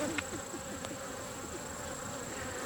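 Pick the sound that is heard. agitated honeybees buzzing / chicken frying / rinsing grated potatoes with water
agitated honeybees buzzing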